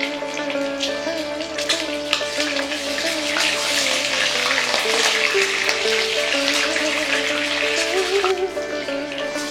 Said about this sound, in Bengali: তারপর সেই ডিম হালকা করে ভেজে তুলব।